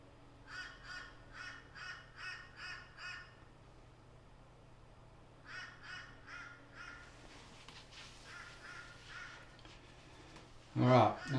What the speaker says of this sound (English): How annoying is that crow?